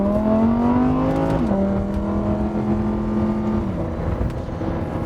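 A 2016 Lamborghini Huracan LP610-4 drives in Strada mode, its engine droning steadily from inside the cabin, pitch dipping at gear changes as it cruises under road noise.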